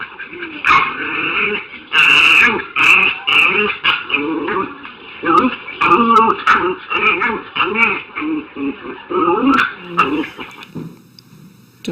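A puppy growls and whimpers steadily and up close, the low rumbling broken by higher whining cries over twelve seconds.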